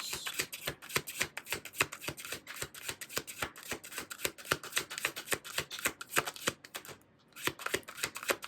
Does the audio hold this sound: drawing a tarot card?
yes